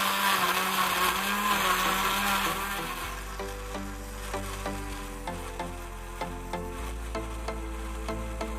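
A kitchen blender whirs steadily while mixing a smoothie for gout sufferers, loud and close for about three seconds before it stops and music takes over.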